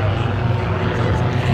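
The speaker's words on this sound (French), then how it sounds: "l'avion est suspendu à son hélice" A propeller aerobatic airplane climbs vertically with a roll, its engine and prop giving a loud, steady droning roar throughout.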